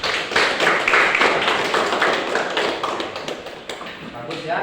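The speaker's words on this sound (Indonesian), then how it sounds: "Ya, bagus, tepuk tangan." A class of students clapping hands in applause during a school lesson, a steady dense patter of many claps that fades slightly toward the end, with voices mixed in.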